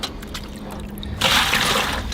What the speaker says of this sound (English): I just fill pails up with water